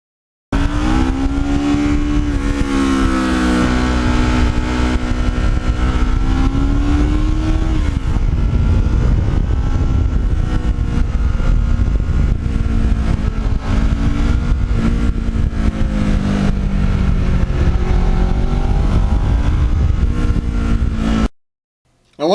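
A Yamaha MT-09 motorcycle engine drones loudly and close up while riding. Its pitch rises and falls with throttle changes, continues almost unbroken, then cuts off abruptly at the end.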